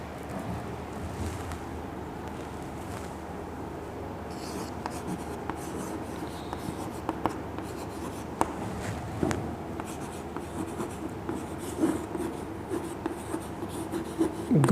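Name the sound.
writing on a board during lecture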